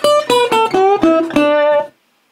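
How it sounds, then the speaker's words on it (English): A slide guitar lick is played cleanly with the unused strings muted: six crisp, separated picked notes sliding between pitches, each cut short, ending abruptly in silence. "But if I wanted to play it cleanly,"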